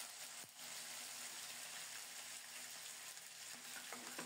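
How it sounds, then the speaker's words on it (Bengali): Spice paste and ginger paste fry in hot oil, with whole cinnamon, cardamom and cumin, giving a continuous soft sizzle. Scrapes of stirring come through, faint and close, with no voices. "নেড়ে চেড়ে মশলাটাকে ভালোভাবে কষিয়ে নেব।"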